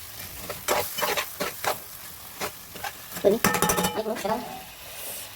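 Vegetables for a fish curry being stirred in a frying pan, with repeated scraping strokes and clinks of the spoon against the pan over a steady close sizzle, busier toward the end.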